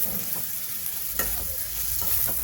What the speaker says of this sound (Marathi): उकडलेले बटाटे टाकल्यानंतर व्यवस्थित सर्व मिश्रण एकत्रित करून घ्यायचे